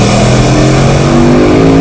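A Bugatti Mistral engine rumbles and revs steadily at close range, a deep continuous growl with a rising whine layered on top.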